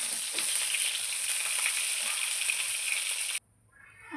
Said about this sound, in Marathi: मी परतून घेत आहे